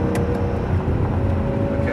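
A Lamborghini Gallardo engine drones loud and steady from inside the cabin as it powers along a race track, a continuous strong rumble with a faint voice mixed in.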